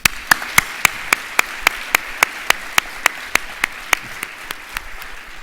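Audience applause at a 2019 Veterans Day ceremony at Neuqua Valley, heard as crisp, evenly spaced claps in a steady rhythm for several seconds, loud and close, with no talking over them.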